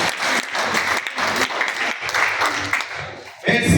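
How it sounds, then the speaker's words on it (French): An audience applauds at a company award ceremony, continuous full clapping for nearly four seconds, with a voice briefly audible at the end. "Applaudissez pour Chivalik."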